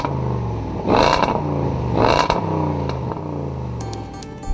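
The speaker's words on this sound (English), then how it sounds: "change the exhaust system so you could hear the V8 under the bonnet" Loud, rich V8 engine and exhaust note from a 2014 Range Rover Sport, two strong revving surges rising and falling over a steady burbling idle, close and with no talk.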